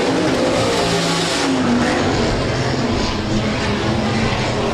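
USRA Hobby Stock race cars in a heat race at Rapid Speedway, their engines roaring loudly and steadily as the pack runs past, with a continuous dense drone throughout.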